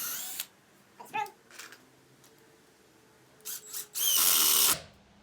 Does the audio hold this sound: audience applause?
no